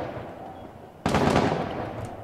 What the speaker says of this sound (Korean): 총소리 누군 거지?